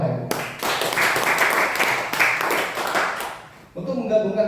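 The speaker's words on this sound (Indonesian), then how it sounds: "Tepuk tangan buat mereka Bapak Ibu." An audience at a business meeting applauds, a dense burst of clapping lasting a few seconds before a voice speaks over the end.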